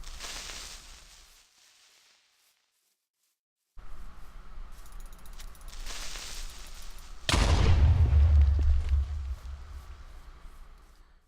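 A creeper in the Minecraft video game hisses and then erupts in a loud, close explosion with a heavy low boom that decays over a few seconds amid in-game ambience.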